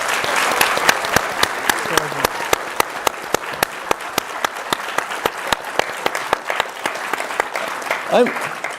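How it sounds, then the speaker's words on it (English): Audience at a panel event on protecting democracy gives a round of applause, steady dense clapping with sharp individual claps standing out, ending with a brief voice near the close. "Can everybody please give Adrian a round of applause?"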